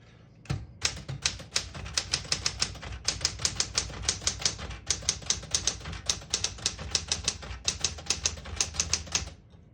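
A 1970 Smith-Corona Super Sterling portable typewriter types a fast, steady run of crisp key strikes close by, with occasional heavier clacks and no talk.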